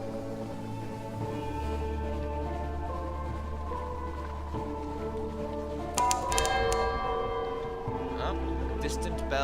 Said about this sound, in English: Oh, distant bells.